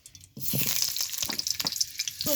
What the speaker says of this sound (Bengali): যে সবজিগুলো কেটে নিয়েছি এক এক করে সবজিগুলো তেলে ভেজে নিব হালকা করে